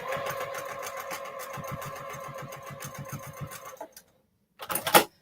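A sewing machine stitching quilt pieces, a rapid even mechanical chatter running for about four seconds before stopping, then a brief second burst near the end, close and clear with no talk.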